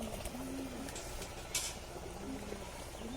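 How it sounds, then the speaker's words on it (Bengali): Pigeons cooing at a home loft while the birds feed, low soft coos recurring a few times over a steady background, with a brief brighter rustle midway. "দেখুন আমাদের সব কবুতর খাওয়া দাওয়া করছে"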